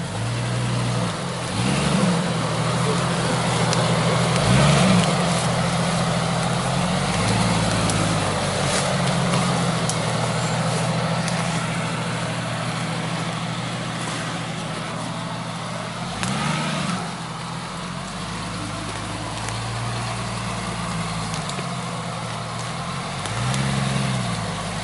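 A lifted Jeep Cherokee XJ on an off-road jungle trail, its engine rumbling low and surging in several revving bursts over a steady drone, with rough scraping and rustling from the terrain and no voices.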